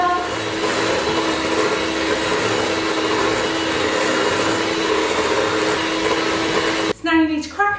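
An electric whisk whirs steadily and loudly, mixing butter and sugar in a bowl for a cookie dough, with a continuous motor drone that cuts off near the end as a voice begins speaking.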